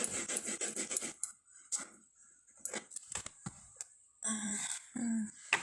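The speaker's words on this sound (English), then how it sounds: "And that's what she was barking about" A pet dog pants in quick, breathy bursts indoors, then gives a few short, close barks. The sounds are moderately loud, broken by brief quiet gaps, and a person speaks faintly in the background.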